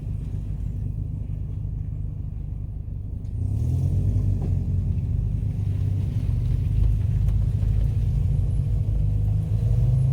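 An off-road vehicle on a trail in the Smokies rumbles along with a low, steady engine drone that grows louder partway through, with no talk.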